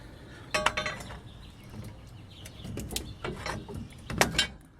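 A rear axle shaft is worked out of a Plymouth Duster's sure-grip rear end, giving scattered metallic clinks and scraping knocks, close up and irregular, with no talking.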